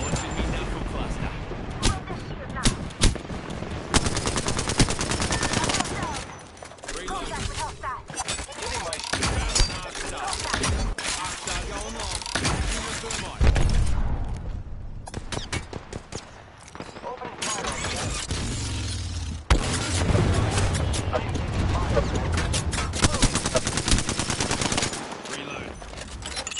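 Enemy gunfire in the battle royale game Apex Legends, with repeated bursts of rapid shots and single cracks running through most of the stretch, loud and mixed with other game effects and a player talking over it.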